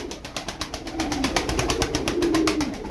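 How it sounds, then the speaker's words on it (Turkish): A young pigeon flaps its wings rapidly in a rhythmic series of close, sharp beats, with soft cooing underneath. "Bakın kuş kanat çalıştırıyor"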